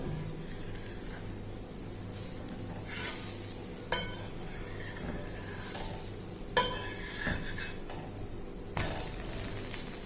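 Keerai dosa cooking on a pan after being flipped: soft, continuous sizzling with a few sharp scraping and clinking touches from a spatula, fairly quiet and close, with no talking.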